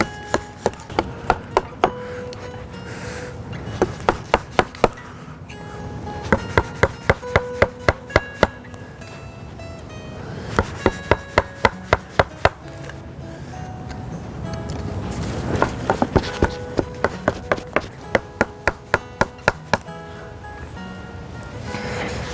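A half-inch chisel struck with a mallet chops into a log in bursts of sharp, rhythmic wooden knocks, loud and close, with brief pauses between runs of blows.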